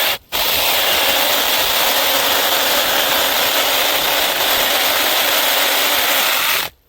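A DEKOPRO cordless mini electric chainsaw cuts through a 6-inch tree: after a brief start, a loud, steady, buzzing whine of chain biting wood runs continuously for about six seconds, then stops abruptly.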